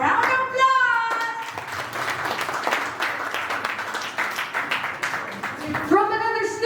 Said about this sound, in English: Let's give him once again a round of applause.